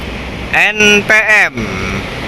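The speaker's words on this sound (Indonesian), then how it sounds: "Masuk lagi bus Sumbar di jam 10-an ini mulai masuk semua ya" A Sumbar intercity bus passes on a road, sounding a loud, melodic multi-tone horn in several blasts over a steady, constant rumble of traffic.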